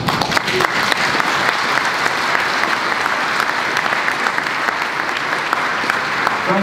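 Delegates at a formal international meeting give continuous, even applause to approve a request by acclamation, a full room of clapping sustained for several seconds.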